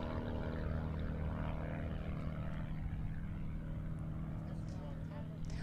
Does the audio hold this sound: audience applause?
no